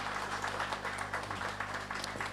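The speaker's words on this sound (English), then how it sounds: "A round of applause for my panelists," Applause for panelists at a radiation protection public engagement event, a faint, steady patter of scattered clapping heard from a distance over a low room hum.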